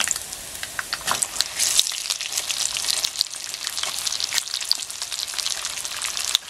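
Eggplant fingers deep fry in hot oil with a dense, crackling sizzle and rapid pops, continuous and close, with no voices.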